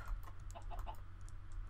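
A chicken in a Minecraft-style modded game clucks in a quick burst of short calls, faint under steady background noise and light keyboard clicking.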